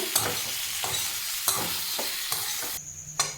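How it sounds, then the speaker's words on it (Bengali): Ginger paste, chili and salt frying in a little mustard oil, a steady close sizzle broken by several sharp scrapes and clicks of a spatula stirring the pan, with a brighter hiss near the end. "এটাকে ভালো করে ভেজে নিলাম, বেশি ভাজবো না।"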